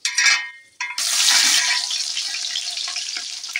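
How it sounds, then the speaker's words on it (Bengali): Chopped onion drops into hot oil with fried whole spices for chicken biryani, setting off a loud, steady sizzle that holds for several seconds after a brief pause. "মশলা ভাজা হয়ে গেছে, আমি পেঁয়াজ কুচিটা দিয়ে দেবো।"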